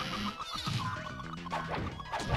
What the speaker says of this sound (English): That's the sound of fuzzies.